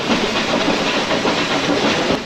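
The Ooty toy train on the Mettupalayam line passes through a tunnel in a loud, dense, echoing roar, with steady rattling and clacking from the carriages close by.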